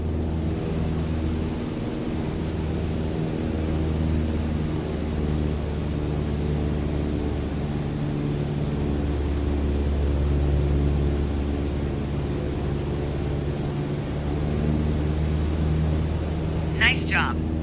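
A light aircraft engine drones steadily at cruise throttle around 2,300 RPM in Microsoft Flight Simulator 2020, a constant close hum with faint level shifts, as an instructor voice speaks over it.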